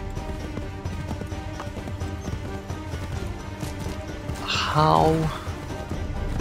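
Horse in the Assassin's Creed 3 video game whinnying loudly for about a second amid a busy game soundscape with hoofbeat-like clip-clop and a person talking over it.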